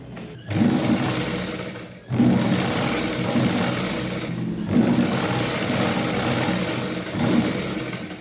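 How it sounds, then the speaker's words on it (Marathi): A sewing machine stitches the fabric of a nauvari saree in three long, steady motor runs, close and loud, with brief pauses between the runs and no talking. "पायाच्या डाव्या बाजूला आपल्याला नीरीचा भाग स्टिच करून घ्यायचा आहे"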